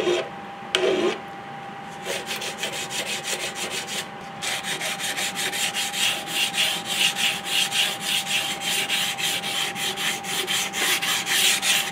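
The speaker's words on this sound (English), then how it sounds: "Be sure to take that file and sandpaper up to and through where we've already worked that area of the stock" A file and sandpaper work a wooden flintlock muzzleloader rifle stock from a kit, giving close, steady rhythmic rasping strokes that continue evenly for the whole stretch with no speech.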